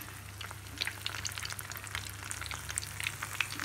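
Bourek brick pastries filled with kebab frying in hot oil, a steady close crackling sizzle with scattered sharp pops and spatters, no talking.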